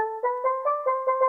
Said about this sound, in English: we're also adding in this preset from Purity called Steel Drums.